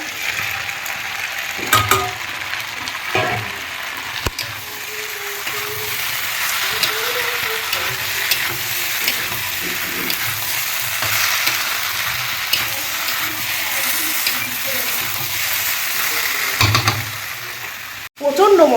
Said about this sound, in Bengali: আলু আর চিকেনগুলো কষাচ্ছি ভালো করে